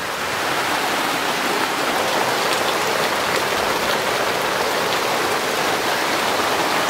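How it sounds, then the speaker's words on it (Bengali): Steady heavy rain falls outside, a dense, even hiss of drops on surfaces that continues without a break and with no talking. "এদিকে ভাতের জল পড়ছে আর ওদিকে বাইরে বৃষ্টির জল পড়ছে"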